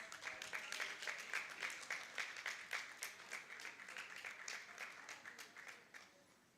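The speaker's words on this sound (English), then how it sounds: "a round of applause, please." Applause from a regional Girl Guides conference closing ceremony audience, a steady patter of many hands clapping at moderate distance that fades out toward the end.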